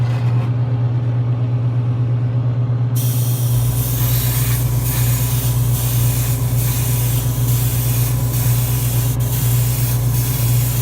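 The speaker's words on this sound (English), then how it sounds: "doing these gloss colors with the airbrush" An airbrush sprays single-stage gloss paint at a workbench, a continuous close hiss that swells loud after a quieter start and runs steadily with faint pulses, over a low constant compressor hum, without voices.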